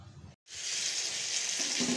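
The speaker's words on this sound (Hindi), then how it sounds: "ये देखें ये हमारी चिकन फ्राई हो रही है।" Chicken pieces frying in a pan for chatni gosht, a dense, steady hiss of hot oil that starts after a brief gap and continues close and even to the end.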